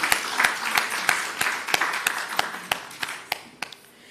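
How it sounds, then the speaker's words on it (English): A conference audience claps, sharp individual claps standing out over a steady wash of applause from a moderate distance, lasting a few seconds with no talk. "I invite us to give a round of applause for what has transpired over the 3 days of the conference."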